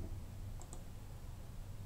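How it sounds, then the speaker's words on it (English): A computer mouse gives two quick, quiet clicks close together over a steady low hum. "so we click in here"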